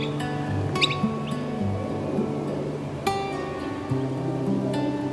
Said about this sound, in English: I was watching the antics of birds.